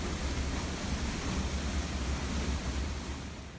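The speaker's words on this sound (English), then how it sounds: "the water's very powerful in here" Powerful water of Donut Falls roars inside a cavern, a dense continuous rushing wash, loud and close throughout, with no talk.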